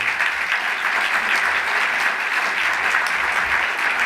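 An audience at the 2017 Pinnacle Awards Gala applauds twelve award winners called up to the stage, a steady, dense wash of clapping from a large crowd with no voices over it.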